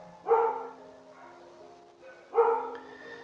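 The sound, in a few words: dog barking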